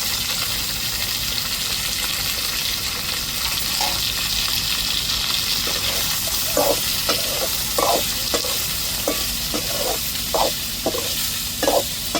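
Oil sizzles steadily in a pan as dried fish fries, with scraping stirs and clinks of a utensil in the second half, no voices.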